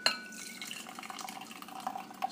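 Boiling water poured into a gaiwan packed to the brim with Wuyi oolong tea leaves, a soft continuous trickle and splash against porcelain, close and quiet with no talking.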